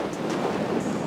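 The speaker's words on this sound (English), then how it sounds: "Sorry about the wind." Steady wind buffets the microphone at the Uplistsikhe rock-cut fortress, a continuous low rushing roar that fills the short moment on its own, with no voices.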